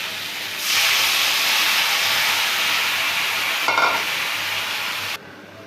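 Water poured into frying masala with plantain and potato in a pan sets off a loud, sustained hiss of steam that runs steadily for several seconds before cutting off, close up with no voices.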